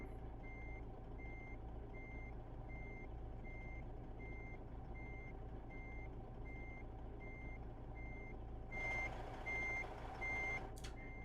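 Steady electronic reversing beeps sound from a semi truck backing up a trailer in American Truck Simulator, beeping at an even rhythm over a low engine drone, with a brief rise in engine noise and a short hiss near the end.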